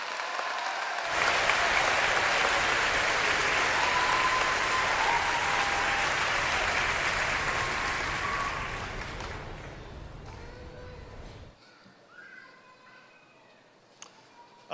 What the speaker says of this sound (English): Let's give them all a final round of applause.